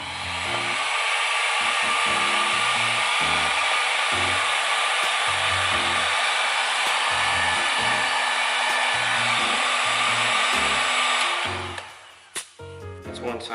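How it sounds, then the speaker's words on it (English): Heat gun blowing a steady, loud rush of hot air while shrinking tubing on soldered wires during installation of an N2MB WOT Box in a 2012 Mustang, with light clicks underneath before it cuts off near the end. "Switch to my heat gun."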